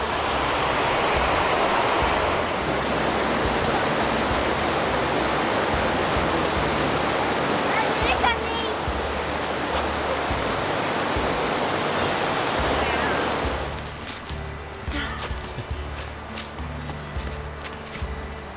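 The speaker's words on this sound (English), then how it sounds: "River's pretty high, huh?" A high, fast-flowing river swollen by rain and spring snowmelt rushes in a steady loud roar, easing somewhat near the end as footsteps and small handling noises come through.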